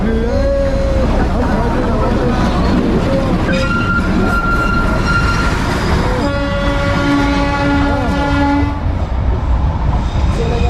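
A toy train in the Gidda Pahar hills rumbles along steadily while its horn sounds several long blasts. The train is close and loud, and voices are heard in places.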